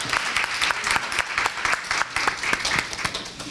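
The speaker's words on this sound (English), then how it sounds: "let's give them a warm round of applause" An audience gives a warm round of applause for a holiday success panel, with dense, steady clapping that pulses evenly and stays moderately close throughout.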